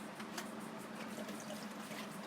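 Water is poured into a tomato and green chili spice paste while daal mash is being cooked, giving a brief, soft, steady trickle close by with no talk.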